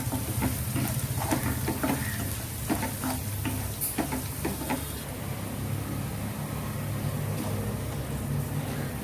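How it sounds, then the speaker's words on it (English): Garlic and ginger fry in oil over a low flame, giving a steady, close sizzle. Scraping and stirring clicks come through at the start and then fade, leaving an even crackle alone. "keep the flame in low and fry it till the color of the garlic and ginger changes"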